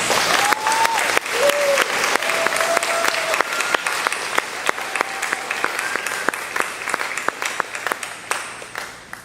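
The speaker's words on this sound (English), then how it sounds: "Could you all please give them a round of applause?" Sustained applause from a crowd at a college commencement ceremony, dense steady clapping that continues throughout at a fairly loud level.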